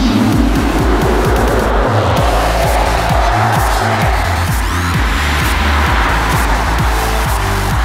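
A Tesla Model S electric car accelerating from a standstill, a loud continuous rushing whine and road roar that builds steadily over several seconds without engine notes or voices.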